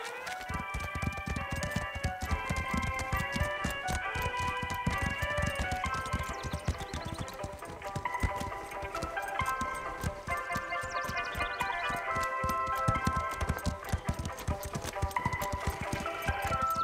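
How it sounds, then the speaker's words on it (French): Rapid clip-clop of horses' hooves in a cartoon, a steady stream of sharp taps running throughout under a busy layer of music. "Nos chevaux vont devoir marcher au-dessus de ces ficelles."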